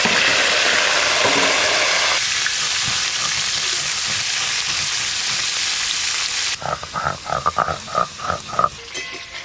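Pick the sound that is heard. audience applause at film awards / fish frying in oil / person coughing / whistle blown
fish frying in oil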